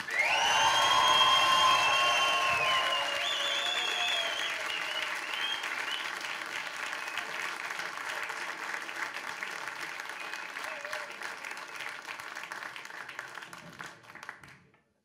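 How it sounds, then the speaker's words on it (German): A comedy club audience breaks into loud, dense applause with some cheering to welcome two comedians, the clapping swelling early and then thinning out gradually over about fifteen seconds. "Und wir begrüßen sie mit einem Applaus der Stufe 426."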